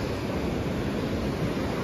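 Sea waves crash and wash at high tide along the shore at Swanage, a steady, loud, broadband roar mixed with wind buffeting the microphone, with no voices heard.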